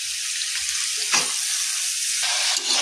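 Chickpeas and potatoes fry in a hot pan with a loud, continuous hissing sizzle, broken by brief scraping bursts as the pan is stirred; no one speaks.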